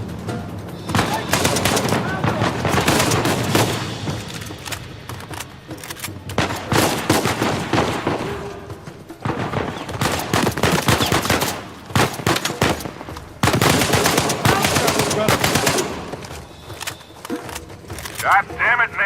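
Heavy gunfire in the video game Uncharted 4, with dense bursts of automatic fire and repeated shots in long loud waves that pause briefly, mixed with game voices talking over the action.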